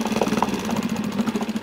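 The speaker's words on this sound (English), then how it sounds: "See how it bogged down a little bit?" A Mercury 3.5 hp outboard engine runs with a steady low drone and uneven, pulsing beats as it bogs down slightly on the throttle, close and continuous without any speech.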